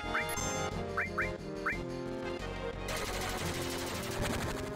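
Barrett's machine gun rattles in rapid bursts during a Final Fantasy VII battle, loud and close, mixed with game music and chiming effects, with a denser barrage toward the end.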